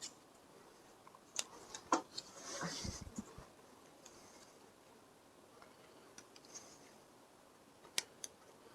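Scissors cutting out circles from sheet styrene for scratchbuilt scale model parts, quiet close snips and clicks scattered irregularly, with a short rustling burst near the middle and low background hiss.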